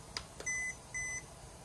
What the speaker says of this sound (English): Okay, the alarm is set for 6:30.